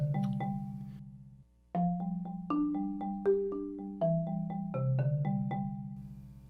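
The first measure of the A section of a song, played on a plucked string instrument other than the original, with a low repeating bass note under syncopated higher melody notes, clean and close.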